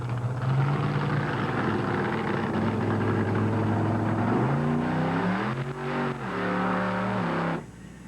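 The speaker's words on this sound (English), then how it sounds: "temperature's dropping, so Dan is trying to warm up Bigfoot's engine" The engine of the Bigfoot monster truck, a 10,000-pound machine, is warmed up in falling temperatures before a jump, a loud, close, steady rumble that swells with revs and then drops back near the end.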